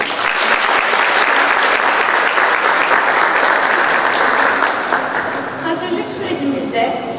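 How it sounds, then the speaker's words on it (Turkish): A large audience gives strong, sustained applause for sports coaches, a thick, loud roar of clapping that stays steady, with voices and crowd murmur rising underneath toward the end. "Ben sizlerden öncelikle onlar için güçlü bir alkış rica ediyorum."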